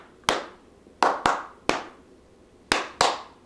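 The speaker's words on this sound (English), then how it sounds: "I have to clap for audio purposes" A single person claps hands six times at uneven intervals, each clap a sharp, close, crisp slap in a quiet room, with no talk.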